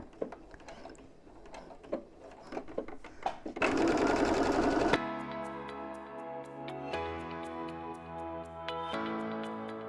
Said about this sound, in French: Je vais utiliser un point repère sur mon pied et donc je fais du point zigzag partout.